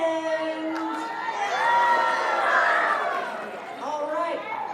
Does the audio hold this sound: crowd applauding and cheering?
yes